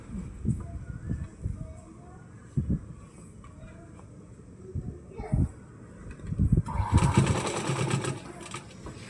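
Sewing machine stitching straight seams on pant fabric, with bursts of machine running amid handling noise; a louder, denser run near the end, with speech nearby.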